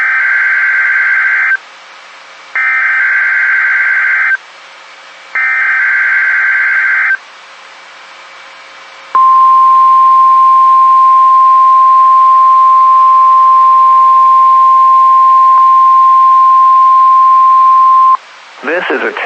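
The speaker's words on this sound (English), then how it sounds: "The attention signals you just heard will automatically activate special receivers to warn of the impending hazard." NOAA Weather Radio alert: three loud warbling attention tones pulse in sequence, followed by a long, steady high-pitched beep that holds for several seconds before cutting off.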